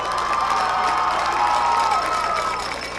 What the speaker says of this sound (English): One more round of applause, please, for Trinity Borneo